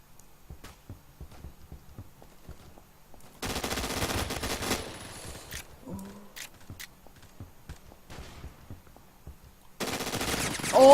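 Gunfire in the Roblox shooter Phantom Forces, with bursts of automatic fire and scattered single shots, loud dense stretches alternating with quieter clicks and thuds of game action.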